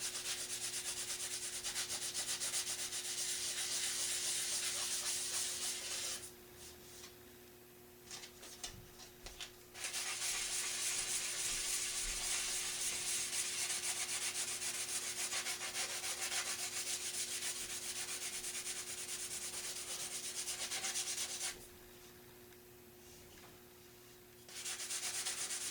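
Close, steady sanding of plastic parts from an HO scale Walthers Northern Light & Power structure kit, continuous abrasive rubbing broken by two short pauses with faint handling noise.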